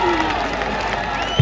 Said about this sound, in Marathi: जोरदार घोषणा, जोरदार टाळ्या मात्र त्या ठिकाणी पडत आहेत.